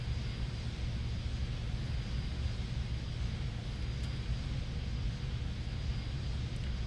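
Airliner engine spooling up in the X-Plane 10 flight simulator on a JARDesign A320, a steady low roar with broad rumble that holds level throughout, no voices.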